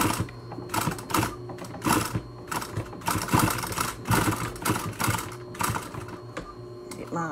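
Sewing machine stitching elastic onto a fabric face mask, short close bursts of mechanical whirring with brief stops and restarts as the stitching goes back and forth.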